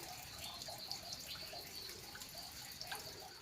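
Water seeps and drips from the stone at the old Zariya Mahadev temple, making faint, scattered drips over a steady quiet wash.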